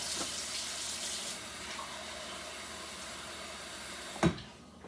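Tap water runs steadily into a measuring cup as a Sunday dinner is cooked, a close, even hiss that holds for about four seconds, then stops abruptly with a short clunk and falls quiet.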